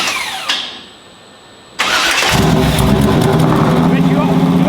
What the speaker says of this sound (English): So go ahead and start her up. Hopefully the starter cooperates.